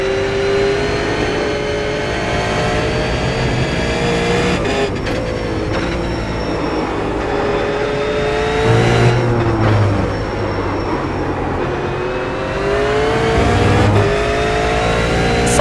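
A V8 race car in a racing video game makes a slow warm-up outlap at Suzuka, its engine droning steadily with gentle rises and falls in pitch and occasional brief revs. No one talks.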